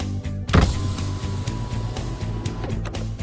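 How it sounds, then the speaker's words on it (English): A car's passenger power window motor whirring steadily as the glass lowers, a low mechanical hum with a faint rhythmic pulse, close and alone, after a brief clunk at the start. "First, lower the passenger window to the lowest level."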